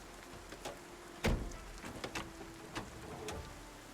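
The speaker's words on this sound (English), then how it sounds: "I'm just tearing cars apart out here in the rain." Steady rain patters and hisses outdoors while cars are being taken apart, with a few louder knocks and clanks of metal scattered through it.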